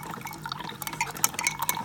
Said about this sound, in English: I'm going to go ahead and pour some creamer in here